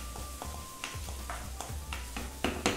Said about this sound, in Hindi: दो मिनट तक आपने भूनना है प्याज डालने के बाद, ब्राउन नहीं करना है मुझे प्याज, हल्का सा भूनना है